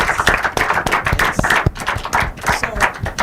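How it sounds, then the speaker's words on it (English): Close, loud clapping at an inter-collegiate debate competition, with sharp individual hand claps in an uneven rhythm over about three seconds. "And actually, give them a round of applause."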